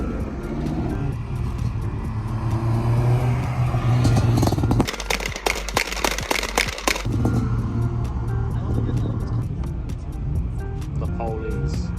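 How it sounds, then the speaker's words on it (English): A car doing a burnout at an outdoor summer car meet at a St. Paul brewery: an engine drones under crowd chatter, then erupts into a few seconds of harsh, crackling, screeching noise before settling back to idle and voices. "a Burnout."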